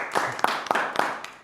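A small group claps briefly in a few spaced, sharp bursts, fading toward the end, thanking the technician who handled video and photos at a podcast recording about FC Erzgebirge Aue.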